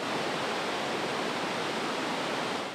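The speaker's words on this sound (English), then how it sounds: "As seen here at Kakabeka Falls, the water passing through the Cam River will have a more saturated yellow tint" Kakabeka Falls on the Kaministiquia River roars as a steady, dense broadband rush of falling water, loud and continuous with no voices.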